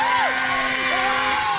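A live studio audience whoops and cheers for Natasha at a televised challenge, loud crowd noise with rising and falling shouts filling the clip.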